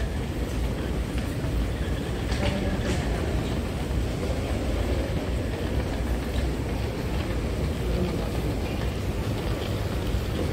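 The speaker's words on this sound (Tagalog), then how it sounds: "Ayan, dyan tumada yung train." An LRT train arrives at a station in Jeddah with a continuous low rumble and rolling wheel noise, steady and fairly loud throughout, with no clear speech.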